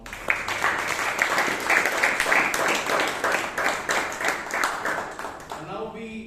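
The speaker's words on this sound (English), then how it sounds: "So big round of applause for Palak and all." Members at a Bangalore Toastmasters meeting give a steady round of clapping that continues for several seconds before tapering off as a voice begins.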